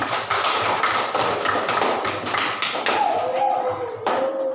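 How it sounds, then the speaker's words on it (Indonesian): Students in an elementary classroom clap for a presenting group, a dense run of sharp taps and claps that fades toward the end as a voice rises over it. "tepuk tangan untuk kelompok ini"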